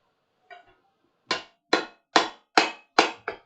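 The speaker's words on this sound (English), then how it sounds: "Dropping the hammer." A hammer rings out on hot metal at a forge in a steady rhythm, six sharp clanging strikes after a faint earlier tap, close and loud.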